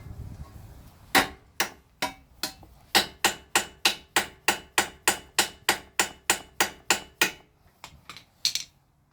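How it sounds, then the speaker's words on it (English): A bolt is tapped out with a hammer on a Honda Civic engine being removed, about twenty sharp metallic strikes in a steady even rhythm, close and loud, with a few quicker taps at the end. "Just kind of tap it out so you don't ruin the threads."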